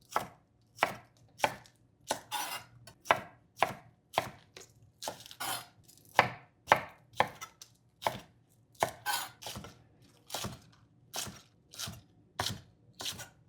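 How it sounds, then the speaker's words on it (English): A knife chops green onions on a cutting board into pieces about half an inch thick and two inches long, in steady, evenly spaced close thuds, each with a crisp slicing edge, with no talking. "we're just going to cut this into about 1/2-inch thick by about 2 inches long"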